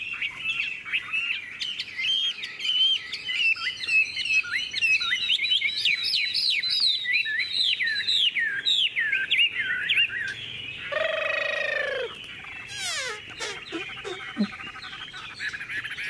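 A Chinese hwamei songbird sings close by in long, rapid runs of varied, bright whistled phrases that shift in pitch, followed by a few harsher, buzzier notes and scattered calls near the end.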